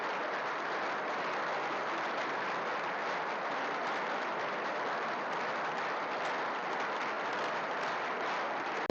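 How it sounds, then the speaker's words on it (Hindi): An audience at a direct-selling training class claps for Deepak Raj sir, a steady, fairly faint and slightly distant wash of applause that holds evenly for about nine seconds, with no talk over it. "दीपक राज सर के लिए जोरदार ताली।"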